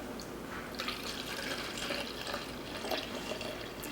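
Liquid pours steadily into a shaker bottle for about 8 ounces during plant-based recipe prep at home, a continuous close trickle and splash with no talk over it.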